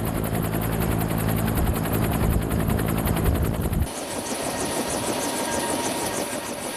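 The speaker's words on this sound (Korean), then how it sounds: "드디어 코브라 헬기가 지상에서 발걸음을 떼려고 한다." A Cobra attack helicopter at an army aviation unit is taking off, its rotor chopping loud and close with a rhythmic thud. The engine whine shifts partway through as the pitch and texture change.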